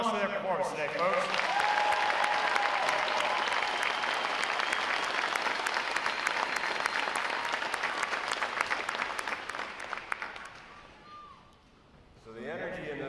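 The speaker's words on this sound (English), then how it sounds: "How about a round of applause for their performance today, folks?" A large crowd at a Navy boot camp graduation in Great Lakes, Illinois applauds a division's drum corps and color guard performance, with sustained, dense clapping that gradually tapers off, followed by a voice over the crowd.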